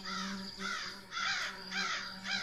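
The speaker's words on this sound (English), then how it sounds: "Those birds are slightly annoying in the background." Crows caw repeatedly in the background of the video game Die Young, five or six harsh calls in an uneven rhythm at moderate distance, with no talking over them.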